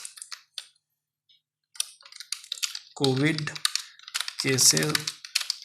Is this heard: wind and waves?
no